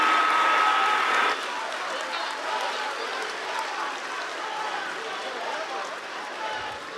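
Applause from an audience in a government conference hall welcoming Claudia Sheinbaum, Mexico City head of government, in Sinaloa; broad, moderately distant clapping sustained throughout after a brief louder opening with a held tone.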